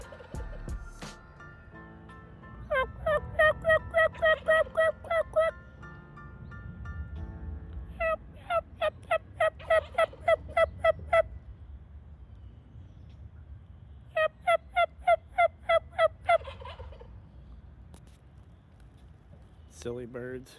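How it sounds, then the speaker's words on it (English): A domestic male farm turkey gobbles in repeated rapid bursts, several rattling calls spaced a few seconds apart over a low background rumble, fairly close and loud. "this farm turkey here, domestic male, is spitting and strutting"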